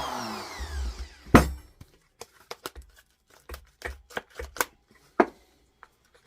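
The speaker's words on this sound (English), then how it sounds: "Hard to get in here with this. It's so big, my Dremel tool." A Dremel rotary tool cuts at a Yamaha Virago motorcycle air cleaner in short, separate bursts of grinding and clattering contact with pauses between them, and no voices are heard.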